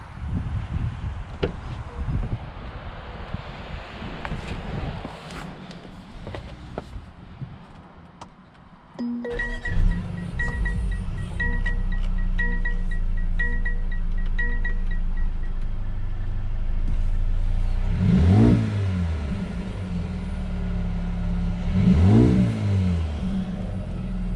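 A Mercedes-Benz CLA 35 (2021): a car door thunks and clicks shut, then the engine starts and settles into a steady drone, with two strong revving surges as it accelerates on a test drive, close and loud.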